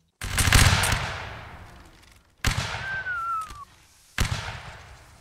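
Musket volleys in the Napoleonic Wars line battle game, three loud crashing discharges a couple of seconds apart, each trailing off into a rolling echo, no talking between them.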